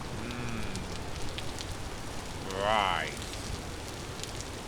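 In-game rain in Vintage Story patters as a steady, soft hiss throughout, under a man's brief spoken remark and a short rising swoosh partway through.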